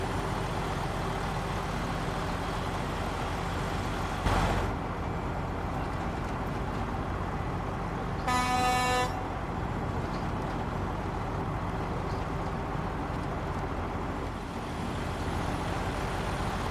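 A big truck engine on a logging run in Alaska rumbles steadily and loudly throughout, with a brief hiss of air and a short high whine partway through.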